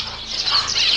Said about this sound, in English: Aren't those lovebirds?